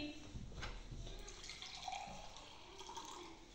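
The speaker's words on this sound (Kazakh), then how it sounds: "Судың дыбысы сылдырлайды екен" Faint water trickles and drips in a quiet room, with soft irregular splashes and light murmuring voices in the background.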